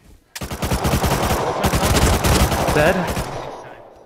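Rapid automatic gunfire in the video game Rust on PS5 rattles in a dense, loud continuous burst lasting a few seconds, and a player's voice comes briefly over it.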